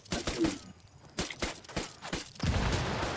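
Gunfire in the video game Ghost Recon Wildlands, several short sharp bursts and single shots spread across a few seconds at moderate level, with gaps between them.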